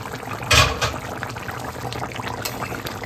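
Fish curry simmers in a pot with soft bubbling and liquid sounds, with a brief louder splash or stir near the start, heard up close with no talking.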